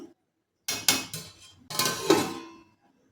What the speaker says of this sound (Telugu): నేను ఇప్పుడు గిన్నె స్టవ్ మారుస్తున్నానండి